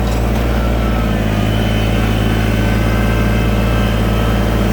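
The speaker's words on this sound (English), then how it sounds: "I'm going to now come over here where my tractor tires in the loose stuff, and I'm going to start driving all the way down through here." Farm tractor rolling slowly over loose gravel to pack it down for a gravel pad, a steady loud low engine drone running continuously throughout, up close.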